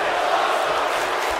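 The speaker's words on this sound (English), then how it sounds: "you can hear the crowd now chanting, "This is awesome."" Dense crowd noise from the virtual arena audience in WWE 2K19 during a ladder match, a steady broad roar that sounds like a chant, fairly loud throughout with no clear speech over it.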